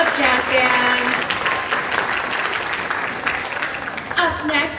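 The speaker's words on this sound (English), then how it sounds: "Another round of applause for Jazz Band" Parents at an elementary school spring concert clap loudly for the jazz band, a full burst of crowd applause under a voice speaking over it, tapering slightly with scattered claps and chatter near the end.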